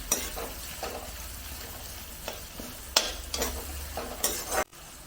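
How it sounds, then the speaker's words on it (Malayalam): Ingredients sauté in oil left over from frying small fish, with a steady soft sizzle broken by repeated scraping stir strokes of a spatula in the pan, close and fairly quiet. "വഴറ്റണം നല്ലപോലെ വഴറ്റിയെടുക്കണം"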